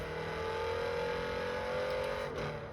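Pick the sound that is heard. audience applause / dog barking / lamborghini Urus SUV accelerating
lamborghini Urus SUV accelerating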